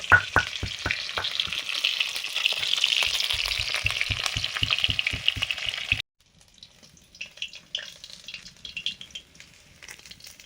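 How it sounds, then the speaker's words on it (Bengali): Fish fries in a pan with a bright, steady sizzle, accompanied for the first few seconds by rhythmic thumping as spices are ground nearby; after a brief drop, softer crackling continues. "মশলা বাটছি আর এদিকে মাছ ভাজা চলছে"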